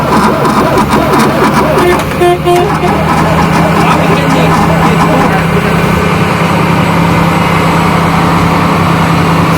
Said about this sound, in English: Problem is cranking over too slow.